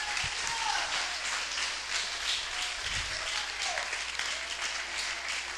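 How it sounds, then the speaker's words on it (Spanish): A church congregation gives a sustained round of applause in praise to God, a dense steady wash of many hands clapping at moderate distance throughout, with no voices standing out. "Brinden un aplauso a Dios"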